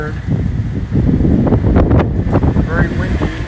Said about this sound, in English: I've never felt it this windy here before.